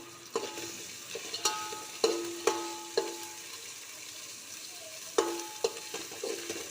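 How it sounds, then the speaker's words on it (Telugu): Cashews, shahjeera and mint frying in oil in a pan, a soft continuous sizzle broken by sharp clanks and scrapes of a stirring spoon at irregular intervals, close and fairly quiet. "ఇవన్నీ కూడా ఫ్రై అవుతున్నాయి అన్నమాట"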